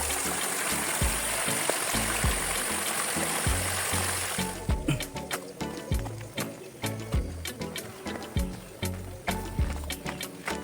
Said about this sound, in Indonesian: Kita di sini sedang melewati sungai.